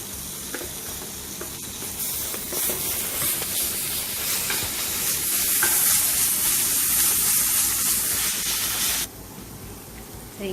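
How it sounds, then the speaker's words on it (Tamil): Ginger garlic paste with onions frying in a pan for prawn thokku, a steady loud sizzle and hiss with occasional stirring scrapes, the sizzle dropping suddenly near the end. "இப்போ இஞ்சி பூண்டு பேஸ்ட் நல்லா வதங்கிடுச்சு"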